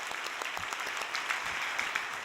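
Scattered audience clapping at a church gathering, a soft, fairly distant patter of hands that runs steadily through the moment without talk.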